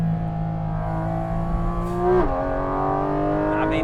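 Porsche GT4 RS sports car accelerating on an Italian mountain road, a smooth rising engine note broken by a quick gear change and then climbing again, close and loud, with no talking.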